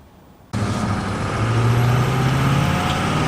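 A Ford F250 with a turbo diesel, fault-checked for poor idle and a sticking EGR valve, starts driving: a steady, loud engine and road drone begins abruptly after a quiet half second and holds without talk.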